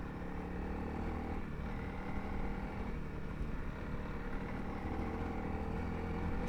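A 300L trail bike climbs a mountain pass trail at Colorado's Marshall Pass, its engine droning steadily and close with wind rush and no pauses, holding a constant level throughout.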